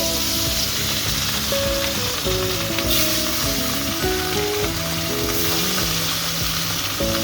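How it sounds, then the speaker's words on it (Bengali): Large pieces of katla fish fry in hot oil, a loud, dense and continuous sizzle with crackling bursts that runs steadily throughout, close and unbroken by talk. "এইভাবে পিসগুলো খুব সুন্দর করে যে বড় বড় মাছগুলো ভেজে"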